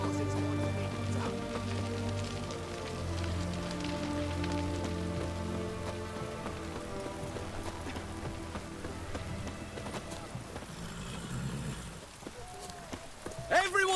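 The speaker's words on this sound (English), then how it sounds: "It's raining, of course it's going to be damp." Steady rainfall patters on surfaces in The Witcher 3 as a continuous hiss, with tonal game music and ambience layered over it, fading toward the end where brief other sounds break in.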